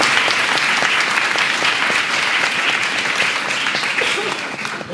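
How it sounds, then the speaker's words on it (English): Steady applause from an audience at a Japanese speech contest in Kenya, honoring Kamau Sensei, with dense clapping sustained throughout and a light voice or two underneath. "I think he deserves another big round of applause"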